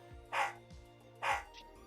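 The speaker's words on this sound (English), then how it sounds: "Can I reduce the dog's volume, please?" A small excited pet dog barks twice, short high yips with quieter whimpering sounds between them, heard faintly and at a distance.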